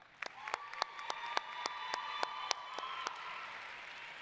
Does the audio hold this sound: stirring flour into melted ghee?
no